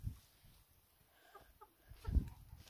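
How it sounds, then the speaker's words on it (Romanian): Chickens and a rooster in a farm pen give a few soft, scattered clucks against quiet background noise, with thumping rustles at the start and near the end. "Avem aici acest cocoșel."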